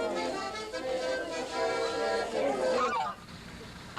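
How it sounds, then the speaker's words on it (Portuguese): A goose that dislikes strangers gives a loud, close run of harsh honks for about three seconds before dropping away to quieter background noise. "seu amigo Karl, esse ganso que não gosta de estranhos."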